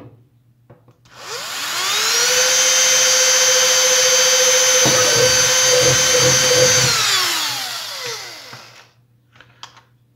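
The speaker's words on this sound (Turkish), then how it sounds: "Tahminen şuraya bir delik açsak sanırım kabloyu aşağı geçirebiliriz." A power drill bores a hole for a cable in a power supply project, spinning up to a steady high whine, biting into the material midway with some rattling, then winding down, heard close with no speech.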